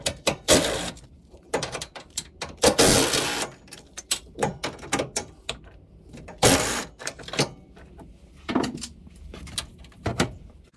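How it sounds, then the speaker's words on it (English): Bolts come out of the hood latch on a Honda CR-V, with sharp clicks and ratchet-like bursts from a 10 mm socket in irregular clusters, close up and fairly quiet. "I'm gonna remove the hood latch, which is this one. There are three bolts, are 10 millimeters also."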